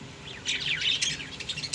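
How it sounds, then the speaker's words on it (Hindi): A hand-tame pet red-vented bulbul gives a quick series of sharp, squawky chirps close by, rising from a quiet start and ending on a louder call. "ये देखें माशाल्लाह रेड वेंटेड बुलबुल हमारी"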